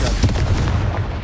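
Confringo spell blast from the Hogwarts Legacy video game on Hard difficulty, a loud, booming burst with a rumbling tail that fills the short moment, up close and without speech.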